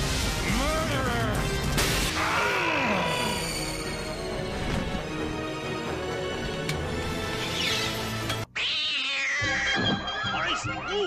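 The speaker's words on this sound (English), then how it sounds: "it's that mangy tabby cat" A mangy tabby cat in a cartoon caterwauls with long, wavering yowls and meows, mixed with crashes and thwacks, then a short pause and a final burst of yowling.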